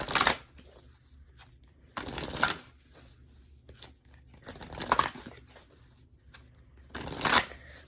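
Oracle cards being shuffled close up in several bursts, each a crisp riffling rush separated by quieter pauses.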